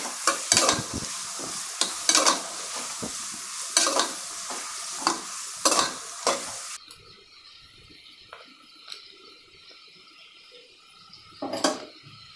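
Onions frying in ghee until brown for Mangalore-style ghee rice, crackling sizzle with repeated sharp spoon scrapes for several seconds, then quieter with only a few scattered clacks, close by and without any talk.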